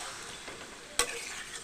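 Spice masala sautéed with a little water for a chicken curry, giving a low steady sizzle with soft stirring and one sharp clack of a spoon near the middle.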